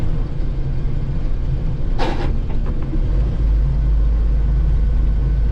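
A Jeep Wrangler YJ on a test drive gives a steady, close, low engine rumble with road noise. A brief higher rattle comes in partway through, and the low drone deepens toward the end.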